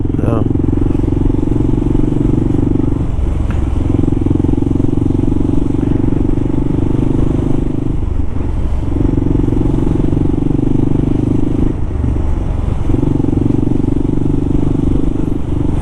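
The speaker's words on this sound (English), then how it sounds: "And now the bike's running good." A KLR motorcycle engine runs at idle, a loud, steady, close rumble that holds for the whole stretch with a faint periodic wavering.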